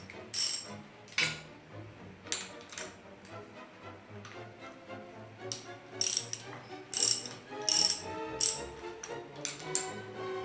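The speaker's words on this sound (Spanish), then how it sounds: "Y acá tenemos con otra llavecita número 12 y aflojamos estos de acá." A 12 mm wrench ratchets loose the bolts on the front fork of a Honda Storm CG 125 motorcycle, crisp clicking bursts repeating in irregular clusters nearby.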